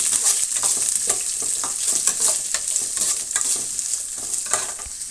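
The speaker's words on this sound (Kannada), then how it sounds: "ಈಗ ನಾವು ಈರುಳ್ಳಿನ ಸೇರಿಸ್ತಾ ಇದ್ದೀನಿ. ಈರುಳ್ಳಿ ಚೆನ್ನಾಗಿ ಬಾಡಿಸ್ಕೊಳ್ಳೋಣ." Onions sauté with mustard seeds in a pan for ivy gourd fry, giving a steady, close sizzle broken by frequent scraping strokes of a spoon, with no voices.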